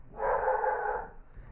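A single sustained dog bark sounds close and fairly loud, slightly drawn out like a short howl, followed by quiet.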